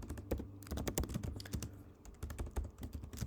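Rapid typing on a computer keyboard while writing Swift code in Xcode, a dense run of close, crisp key clicks with uneven bursts and short pauses, no talk.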